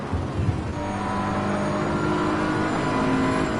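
A BMW GT3 race car engine in Assetto Corsa Competizione at the Hungaroring drones steadily and loudly, rising gradually in pitch as it accelerates, with other race cars audible alongside.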